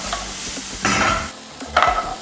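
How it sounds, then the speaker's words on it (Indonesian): Ingredients for bolognese sauce sauté and sizzle in a pan still holding juices from freshly browned meat, with close scraping stirs over a steady frying hiss. "ini kita tumis dulu sampai harum, aromanya keluar"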